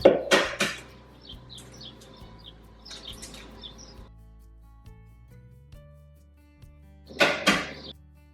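A baked tart crust comes out of the oven in a home kitchen: a loud clatter of door and tray at the start and again near the end, with soft birdsong and quiet kitchen noise in between.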